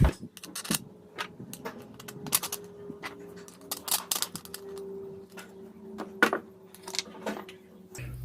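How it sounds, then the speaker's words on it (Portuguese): Small metal screws are set into place to mount a transformer in a homemade pyrography tool, giving a series of quiet, sharp clicks and taps at an uneven pace over a low steady hum, close by. "eu vou colocar os parafusos aqui que prende o transformador"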